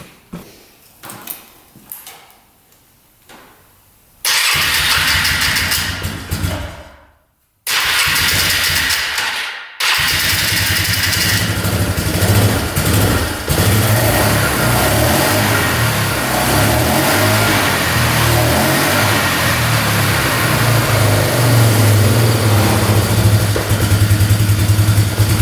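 An ATV engine cranks and catches after a few short attempts, cuts out briefly, then starts again and settles into a loud, steady idle close by.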